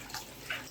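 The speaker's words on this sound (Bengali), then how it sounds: "ভালো করে ধুয়ে" Long beans being washed under running tap water in a kitchen sink, a faint, quiet wash of flowing water with two brief brighter splashes.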